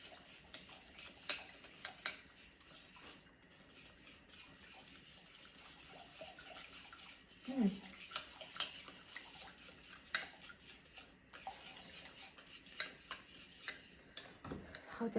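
Chopsticks stirring sweet and sour sauce for chicken, giving soft intermittent clinks and scrapes against a bowl, fairly faint and close, with no talking.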